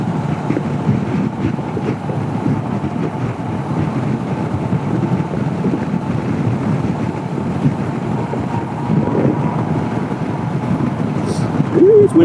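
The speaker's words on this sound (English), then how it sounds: "It's windy up here." Wind buffets and rumbles continuously in a low, blustery roar, steady for several seconds with no distinct events, heard while riding a Honda CB500X motorcycle.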